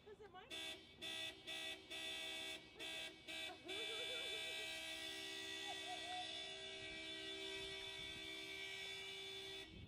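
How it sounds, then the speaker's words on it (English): A car horn honks in a string of short repeated blasts, then holds one long steady tone, near a level crossing as an Amtrak train approaches, with voices talking and shouting over it. "Keep honking it. Honk that shit."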